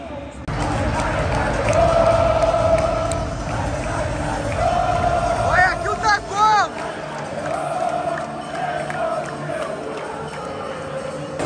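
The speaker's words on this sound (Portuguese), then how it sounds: "A torcida do Atlético Paranaense" Atlético Paranaense supporters roar in a packed football stadium during the opening ceremony of a Copa Libertadores final. The dense crowd noise holds steady, with a brief burst of louder cries midway and voices talking nearby.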